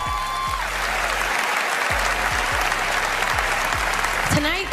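Heavy applause at the Grammys fills the space loud and steady, with a repeating low thudding beat and tonal sweeps running under the dense clapping.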